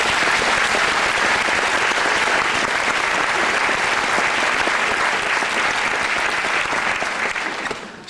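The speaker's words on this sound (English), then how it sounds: "I'd like us all now to give our parents and families a warm round of applause." A large commencement crowd at Medill gives parents and families sustained loud applause, a thick unbroken wash of clapping that fades slightly at the end.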